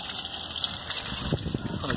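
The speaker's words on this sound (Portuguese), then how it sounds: "Da água muito boa, né? Top demais essa bombinha." A small solar-powered bilge pump discharging water into a pool, a continuous splashing gush with light gurgling, moderately quiet and steady.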